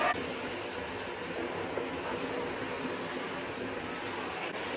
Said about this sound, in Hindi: ये 2 गिलास में पानी डाल रही हूँ।